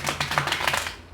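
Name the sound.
tarot cards being shuffled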